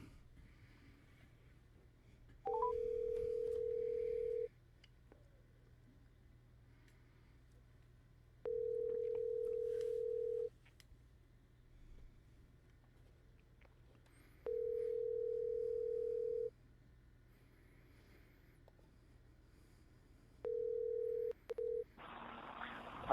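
A telephone line plays a repeating steady tone in four separate bursts of about two seconds each, with quiet room noise between them and a burst of higher tone at the end.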